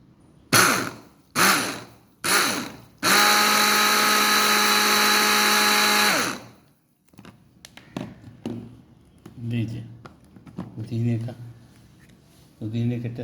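A kitchen blender whirs lemon mint juice in three short pulses followed by a longer steady whine of about three seconds, then stops as a person talks over light clatter.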